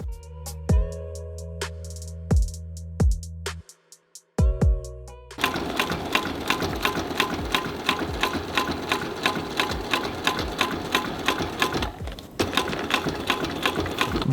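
A sewing machine stitches homemade Nike Jordan 1 sneakers: a few isolated needle thumps first, then a steady, close, fast mechanical chatter running continuously with a brief pause near the end.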